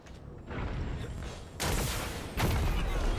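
Rocket explosions in the Destiny 2 shooter, two sudden loud booming blasts bursting over constant gunfire and game rumble, close and dense, with the second blast hitting about a second after the first.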